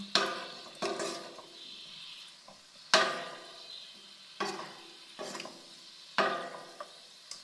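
Broccoli and capsicum being stir-fried in a frying pan, the spatula scraping and tossing in quick bursts every second or so over a soft, steady sizzle.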